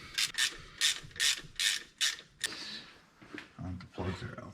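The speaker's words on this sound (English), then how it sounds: "I'm gonna pull the plugs out and see if there's any rust on it." Ratchet wrench removing spark plugs from a 1966 Ford F100 that sat for decades: a run of five or six sharp, rapid clicking bursts up close, followed by softer mechanical fiddling and brief low talk.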